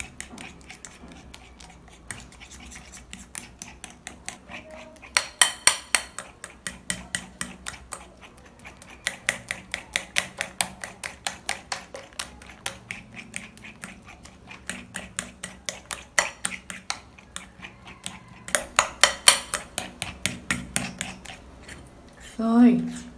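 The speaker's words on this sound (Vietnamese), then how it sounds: "Chúng ta trộn thật đều hỗn hợp." A spoon stirs a banana and toothpaste mixture in a bowl, making a fast run of close scraping and tapping strokes in bursts with short pauses, while someone speaks softly now and then.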